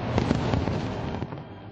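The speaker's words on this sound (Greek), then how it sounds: "Φαντασμαγορικά πυροτεχνήματα και στο Ρίο Ντε Τζανέιρο της Βραζιλίας." New Year fireworks over Copacabana beach in Rio de Janeiro, Brazil, crackling and booming in a dense continuous barrage of overlapping bursts, loud and steady throughout.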